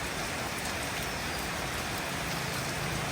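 Steady rain falls in the rainy season over farmland, making a continuous dense hiss with no voices or other distinct sounds.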